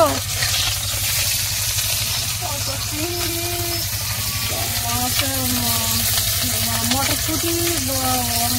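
Parshe and tilapia fish fry in oil in a village kitchen, giving a steady close sizzle and crackle while people talk over it.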